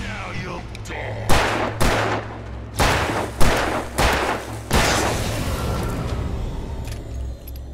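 Gunfire in the video game Alan Wake Remastered: five or six loud, sharp shots fired at uneven intervals, each ringing out with a short decaying tail over a low ambient rumble.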